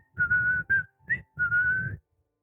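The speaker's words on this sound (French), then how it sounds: "Le siffleur siffle le même air chaque soir." A person whistles a short, cheerful tune in four clear phrases, close and alone with a faint low hum beneath, then falls silent.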